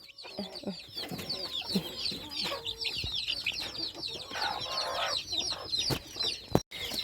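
Chicks on a poultry farm, being treated with herbal remedies for fowl pox, peep and chirp in a dense, continuous high-pitched chorus close by, with a few low clucks and occasional handling knocks.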